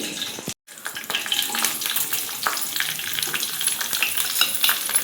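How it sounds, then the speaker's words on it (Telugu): Pounded garlic chili powder dropped into hot tempering oil for Telugu garlic chili powder gives a steady, close crackling sizzle with stirring scrapes, after a brief silent gap near the start. "ఇప్పుడైతే ఈ కారం దంచుకున్న కారాన్ని దాంట్లో వేసేస్తున్నాం ఫ్రెండ్స్"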